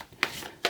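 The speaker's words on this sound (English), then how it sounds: "I'm going to do another shuffle" Tarot cards being shuffled by hand, two quick riffling bursts separated by a short pause, close and crisp, without talk over them.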